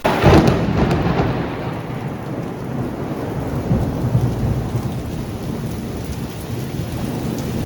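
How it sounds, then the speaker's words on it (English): Heavy tropical rain pours steadily in Malaysia while a loud thunderclap rumbles at the start and fades into a continuous deep roll under the hiss of rain, with no voices. "It rains a lot in Malaysia because it's like tropical, and this one day the thunder was really loud."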